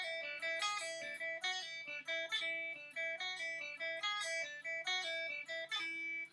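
An electric guitar plays a riff with a pinky pull-off, a quick repeating run of clean plucked notes with crisp attacks, close and moderately quiet, with no talking.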